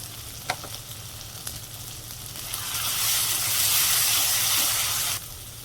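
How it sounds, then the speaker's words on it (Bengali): Ground cumin, coriander and turmeric fry in a pan for a chicken curry, with a close sizzle, a few knocks of the spoon, and a louder hissing surge that builds midway and then cuts off. "ধনের গুঁড়ো মশলাটাকে ভালো করে কষাতে হবে"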